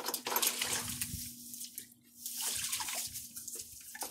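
A black and white Paint mare splashes in a water tank outdoors, producing bursts of sloshing and splashing water, moderately close, with quieter pauses between the splashes and no talking.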